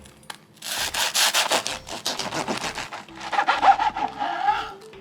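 A knife saws through a toasted hot sandwich filled with frozen blueberries, made in a hot sandwich maker, giving close, repeated rasping and crunching strokes with no talk.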